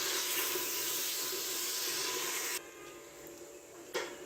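Boneless chicken sizzles over a high flame, giving a loud, steady hiss that drops off abruptly partway through and leaves a quieter background with one brief burst.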